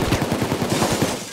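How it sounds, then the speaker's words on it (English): Rapid automatic gunfire in the video game Payday 2 as an enemy pushed against a wall is shot up: a fast, even string of loud bursts at about ten shots a second, close and continuous, with no talking. "Put him against the wall and shoot him up."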